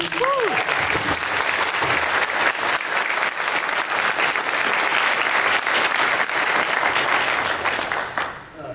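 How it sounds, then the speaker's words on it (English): A Comic-Con panel crowd applauds for Carl after a Masters of the Universe Classics and Ghostbusters toy reveal, a loud sustained roar of clapping from a large audience that fades at the very end, with a brief whoop near the start. "I really want to give Carl a big round of applause."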